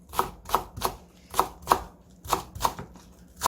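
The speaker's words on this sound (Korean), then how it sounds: "쪽파 7개 정도를 쫑쫑 썰어주고" A knife chops about seven green onions finely on a cutting board, giving crisp, evenly spaced taps of roughly three per second, close and clear with no talking.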